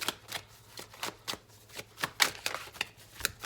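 A deck of Deviant Moon Tarot cards is shuffled up close, a quick run of crisp riffling flicks and soft slaps in an uneven rhythm against a quiet room, with no voices.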